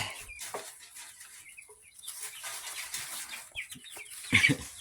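Backyard chickens cluck and murmur close by in short soft bursts, with a louder squawk near the end and some quiet shuffling between calls.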